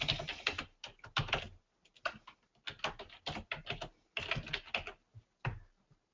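Fingers tap a password out on a computer keyboard in short bursts of quick, close keystrokes, separated by brief pauses, with no talking.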